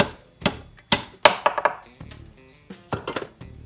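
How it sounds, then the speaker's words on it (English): Sharp metallic taps from a hammer driving a pin out of a Tri-Five car door hinge, several strikes spaced irregularly, close and fairly loud, with small ringing clinks between them. "I'm going to take a hammer and just tap that pin out"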